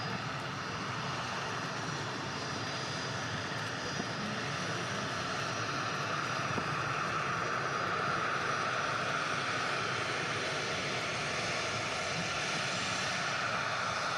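An aircraft engine roars steadily at Manchester Airport, a continuous broadband drone that holds loud and even for the whole stretch, with no voices over it.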